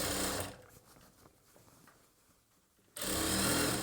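A sewing machine stitches a churidar bottom in two loud bursts of fast needle chatter, one short at the start and one after a long near-silent pause, close by with no talk.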